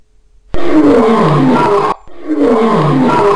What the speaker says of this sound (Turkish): aslanımız belli bir noktaya gelip kükrediğinde